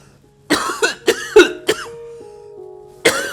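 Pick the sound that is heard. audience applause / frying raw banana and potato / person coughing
person coughing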